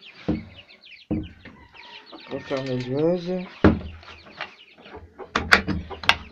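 Backyard hens, one of them a silkie, cluck close by in short bursts and a drawn-out warbling call, with a quiet voice speaking briefly among them.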